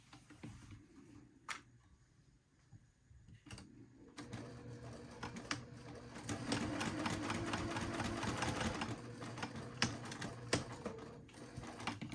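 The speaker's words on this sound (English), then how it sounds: "now I'm going to stitch along that line" A sewing machine stitches along a marked line on a batwing wallet. Quiet handling clicks come first, then a steady, fairly soft run of rapid stitching fills the second half.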